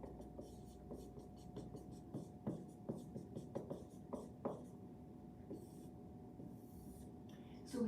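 Pen scratching on paper while a graph is sketched, a soft series of short strokes and taps with a faint steady hum behind it and no speech.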